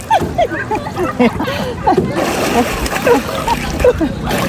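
People jump into water at a team-building outing in Infanta, Quezon Province, with repeated splashes and sloshing under loud excited shouting and chatter throughout.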